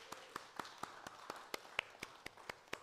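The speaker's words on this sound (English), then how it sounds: "So let's give ourselves a round of applause." Faint, sparse clapping from a small audience at an annual celebration: a dozen or so light, evenly spaced claps over a few seconds, thin and distant rather than a full ovation.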